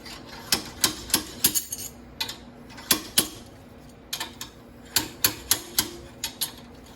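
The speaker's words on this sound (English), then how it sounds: "the next step is to use our slide hammer and pop out this bearing race" Sharp metallic impacts of a slide hammer working a rear axle bearing race out of a Jeep Wrangler JK, in rapid bursts of two to four clanks separated by short pauses, close and loud with no talking.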